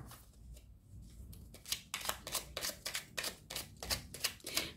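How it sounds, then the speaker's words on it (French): Oracle cards handled in a tarot-style reading, shuffled in a run of crisp, evenly spaced riffling snaps that grow steadier after a quieter start, close up with no voices. "on va tirer deux cartes pour voir ce qu'il en est"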